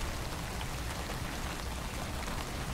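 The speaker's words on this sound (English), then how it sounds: "I like the sounds of the rain." Rain in a spooky night-time video game pours as a dense, constant hiss of falling drops, steady and unbroken throughout.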